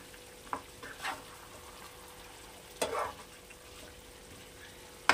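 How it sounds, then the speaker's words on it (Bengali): Chicken chap fries in a pan with a soft, steady sizzle, broken by a few scraping stirs of a spatula up close, with no talking. "দুটোতেই দিয়ে দিলাম, মিশিয়ে দিলাম, দিয়ে এবার নাড়িয়ে দেব"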